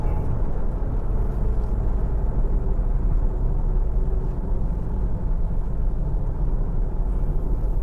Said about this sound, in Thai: เหมือนมีเสียงลูกปืนล้อนะครับคันนี้